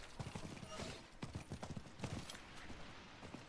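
Horse hooves clip-clop at a steady trot in the video game Diablo 4 on PS4, a faint rhythmic patter of footfalls over low game ambience.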